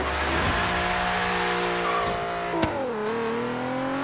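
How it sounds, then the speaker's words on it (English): A stock Nissan 350Z fitted with a single turbo in the Forza racing game accelerates hard, its engine note climbing through the revs, dipping at a gear shift and rising again, loud and close. "here we have our stock Nissan 350Z, and we're gonna go ahead and single turbo it."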